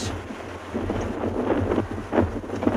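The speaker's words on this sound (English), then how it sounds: "we made it, but it is extremely windy" Strong wind buffets a partly covered microphone outdoors on a safari drive near a dam at sunset, a continuous low rumbling roar with gusty surges and no voices.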